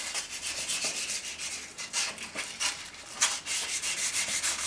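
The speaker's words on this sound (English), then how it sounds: "I'm just scuffing this back." A Triumph motorcycle heat shield is scuffed back by hand before painting, with repeated rhythmic abrasive rubbing strokes, close and fairly loud, in an even back-and-forth pattern with no talking.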